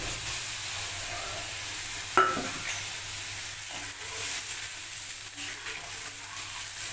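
Masala frying in a pan for a tangra fish oil curry, with a sudden splash as water hits it at about two seconds, then a continuing soft sizzle and stirring scrapes, no speech.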